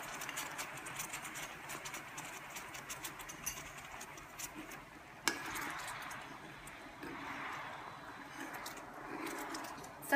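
A spoon scrapes and clinks against a pot while a cornflake, caramel and honey mixture is stirred constantly, a steady soft scraping with a sharp knock midway and a low hum behind it.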